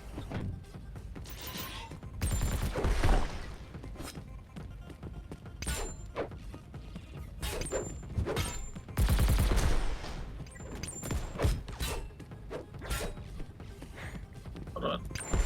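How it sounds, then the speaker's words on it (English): Gunfire in the video game Texnoplazm comes as bursts of loud cracking shots and mechanical clatter, scattered over about fifteen seconds amid other game noise. "Ow, I ran right into that gunshot"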